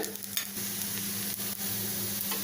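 Thin tomato rava dosa cooking in a little oil on a pan over a medium-low flame makes a continuous, even sizzle heard up close, with faint scraping at a few moments.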